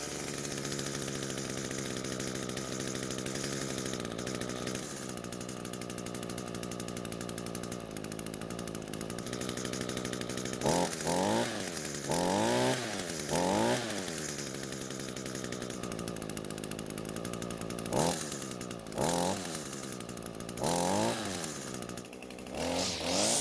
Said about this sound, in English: we'll try and start the engine, let it warm up and see if it runs any better than before